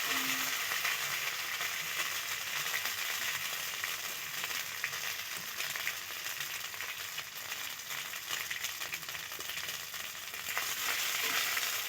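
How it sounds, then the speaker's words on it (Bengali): Ginger paste frying lightly in hot oil gives a loud, continuous hiss and crackle close up, steady throughout with occasional faint stirring rattles. "আদা বাটাটা দিয়ে একটু হালকা ভেজে নেবো,"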